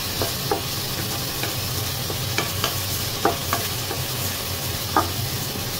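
Bitter gourd and tomato frying in a pan are stirred, with a steady sizzle under scattered spatula taps and scrapes at irregular intervals.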